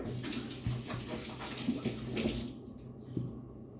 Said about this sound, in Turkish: Ben ellerimi yıkayıp geleyim.